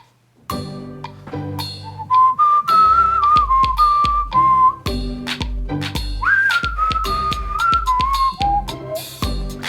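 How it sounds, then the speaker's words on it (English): Someone whistles a bright, wavering melody close to the mic, accompanied by plucked, strummed chords in a steady rhythm played through Garageband on an iPad 3. "I'm going to get some of that wonderful whistling"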